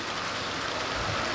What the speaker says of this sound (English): Nice rainy day